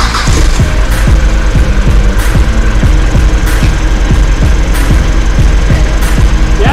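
A car's engine runs steadily during a driveline vibration test, a loud continuous mid-pitched hum with a regular pulsing beat, close and constant with no talk over it.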